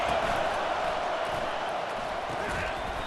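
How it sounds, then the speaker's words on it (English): A dense, steady video game stadium crowd roar at a Rutgers at UCLA college football game fills a large space, a constant murmur of many voices with no distinct words, moderately loud throughout. "This crowd bringing the energy and noise early."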